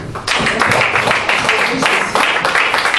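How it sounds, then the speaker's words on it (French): A church congregation claps and applauds continuously in a large room during worship, dense and loud throughout with no talking over it. "peut applaudir pour nous remercier Seigneur."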